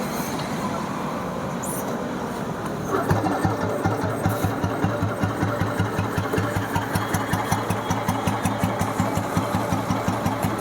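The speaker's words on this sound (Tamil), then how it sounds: "ஸ்டார்ட் பண்ணி காட்டுறேன் பாருங்கள்." A fully restored Royal Enfield Bullet Deluxe motorcycle engine cranks and fires up partway through, then settles into a loud, steady thumping idle with an even, pulsing beat. No voices.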